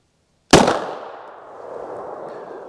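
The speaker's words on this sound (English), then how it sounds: "So 3 rounds on the full metal jacket Browning." A Canik TP9S handgun fires a single 9mm Browning full metal jacket round during a ballistic gel test, a sharp, loud crack that rings out into a long fading tail.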